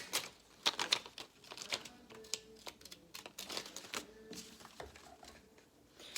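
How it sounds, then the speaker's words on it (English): Scissors snip through paper in a quick series of sharp, crisp cuts, close up and otherwise quiet. "I'm gonna go again and cut with my fancy scissors."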